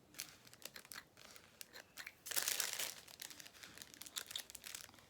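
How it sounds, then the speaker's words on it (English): Scissors snipping through the small thread loops of stitches on a sewn doll's winter skating coat, a run of close, crisp little cuts and crinkles with one louder rustling burst midway, quiet and without talk. "where you've got all of these little loops for the stitches, I'm going to just snip through those"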